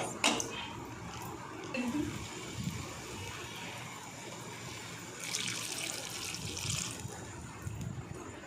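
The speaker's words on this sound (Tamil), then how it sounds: "அந்த அளவுக்கு தண்ணி ஊற்றி ஆட் பண்ணிக்கோங்க" Faint water pours and splashes into a cooking pot while a broth is being made at home for breakfast, with soft continuous trickling and a few louder surges.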